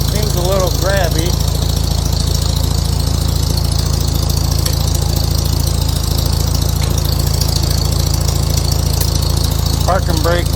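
A Farmall H tractor engine runs in a shop with a steady, loud low drone that holds unbroken throughout, while a person talks briefly near the start and again at the end.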